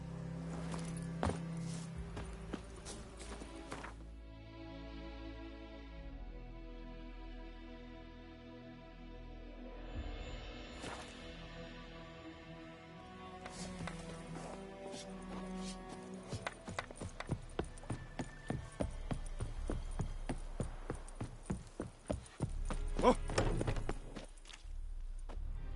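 Geralt's horse Roach trots in The Witcher 3, hooves clip-clopping in a steady rhythm that turns brisk and sharp near the end, with soft music-like tones and ambience underneath.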